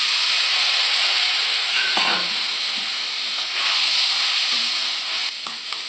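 Boiled pea water poured into a hot oiled pan while making ghugni, a Bengali green pea curry, giving a steady, loud sizzling hiss that runs through the whole stretch with small bubbling pops.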